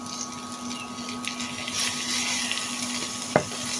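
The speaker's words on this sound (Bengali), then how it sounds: "কাঁচা গন্ধটা যাওয়া অবধি আমি এগুলো ভেজে নেব।" Cumin paste, ginger-garlic paste and slit green chillies fry in a pan, a faint low sizzle under a steady background hum, with one brief sharp scrape near the end and no speech.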